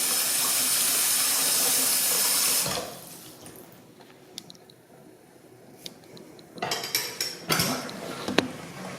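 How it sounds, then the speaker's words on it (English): Water from a tap pours steadily into a sink and drains away, then the flow stops, leaving quiet with scattered drips, clinks and small knocks of handling at the basin. "This seems to be draining out as fast as the water can come in."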